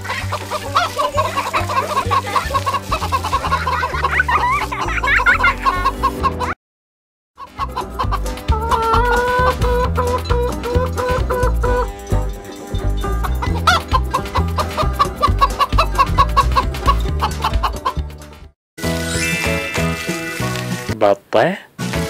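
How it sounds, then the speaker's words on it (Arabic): A chicken clucks loudly and repeatedly in choppy bursts, with brief pauses of silence between stretches and voices mixed in. "دجاجة"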